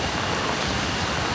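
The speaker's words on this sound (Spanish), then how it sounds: "En efecto, comenzó a llover." Heavy monsoon rain pouring down in Indonesia, a loud, steady, dense hiss of falling water with no pauses, close and filling the whole scene, with no voices.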